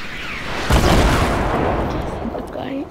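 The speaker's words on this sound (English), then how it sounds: "He's shooting the RPGs." An RPG explosion in a video game: a sudden heavy boom bursts in, then rumbles and crackles loudly for a couple of seconds before tapering off.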